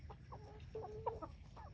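An American Bresse hen clucks softly several times, a short series of low throaty calls over a steady farmyard hum, with no talking.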